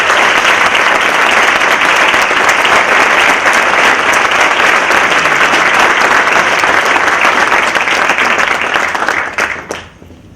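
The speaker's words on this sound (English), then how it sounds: "they deserve a round of applause" A large crowd of parents in a hall applauds the school principals, with loud, sustained, dense clapping that holds steady for about nine seconds before tapering off.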